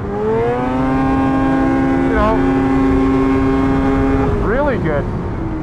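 A 2024 Arctic Cat ZR 600 Catalyst snowmobile engine hums at a steady idle nearby, then gives a couple of quick rising and falling revs near the end, while someone talks over it.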